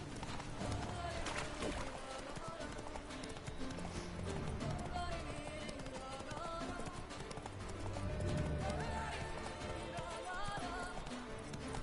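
Hooves of the horse Roach clip-clop at a steady gallop in the video game Witcher 3, running continuously under a dense layer of game music and background sound.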